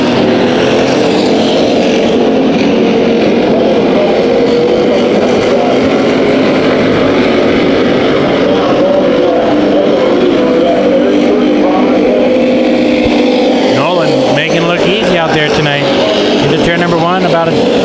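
Dirt track race cars roar around Bakersfield Speedway during heat races, a steady loud engine drone with revving surges near the end, while an announcer talks continuously over it.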